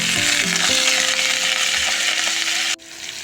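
Loud, steady sizzling as ingredients are poured onto black cumin (kalonji) frying in hot oil for a Nepali-style dried bamboo shoot dish, with a brief clatter and a drop in intensity near the end.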